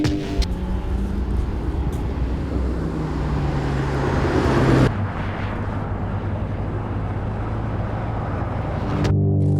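Mercedes-AMG C63 S E-Performance with a 2-liter four-cylinder hybrid engine, running steadily loud with a rising surge that peaks and drops off sharply midway, then a continued lower drone and a brief swell at the end.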